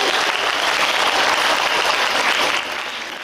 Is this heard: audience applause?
yes